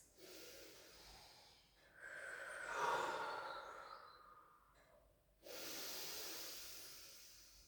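Slow, restful breaths are taken while resting in child's pose during a pilates rehab session, with a few soft, breathy inhales and exhales at close range and a brief pause between them.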